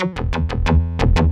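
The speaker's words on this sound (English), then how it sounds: "This is another distortion unit." A synthesizer driven through a Ruina Versio distortion unit plays a quick run of about seven harsh, buzzy stabs with rich harmonics, loud and close, with no voices.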